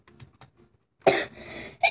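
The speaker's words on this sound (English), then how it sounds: "Sorry, I'm coughing." A single harsh cough bursts out close and loud, followed by a rasping exhale and the start of another cough, after a few soft murmurs.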